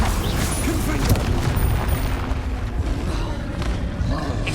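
Confringo fire spell blasts in Hogwarts Legacy combat: a loud, dense wall of rumbling booms and bursts rolls on without a break, with impacts overlapping throughout.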